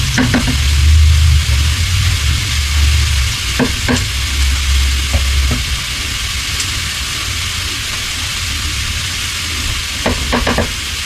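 A fresh batch drops into hot butter with blackened seasoning and fries in a pan: loud, steady hissing sizzle close by, with occasional stirring clinks and no talk.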